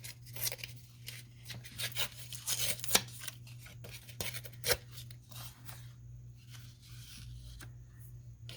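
Scraps of paper torn by hand over an art journal, a run of dry ripping and rustling bursts close to the mic, quick and irregular, easing off toward the end over a low steady hum.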